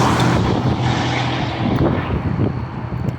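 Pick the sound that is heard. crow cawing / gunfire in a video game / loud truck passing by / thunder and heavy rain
loud truck passing by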